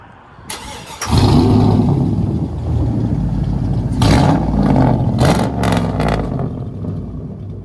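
A 2003 Chevy Silverado LT with true dual straight-pipe exhaust starts up and revs, a loud close roar with several sharp rev bursts over a heavy rumbling idle, no talk.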